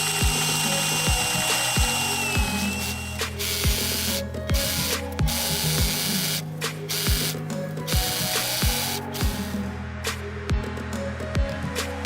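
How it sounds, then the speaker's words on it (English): A sewing machine runs a seam through lime green fabric for a homemade green screen, its steady mechanical needle clatter continuous and close, punctuated by brief pauses and restarts. "I purchased some lime green thread that I'll use to sew it together."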